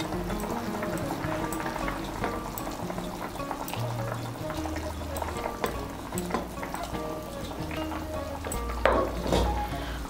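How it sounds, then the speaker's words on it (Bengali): Curry gravy for a vegetarian chhana dalna boiling in a pan, a steady low bubbling with soft pops and a few small knocks, moderately quiet and close. "এই দেখুন ঝোলটা ফুটে উঠেছে।"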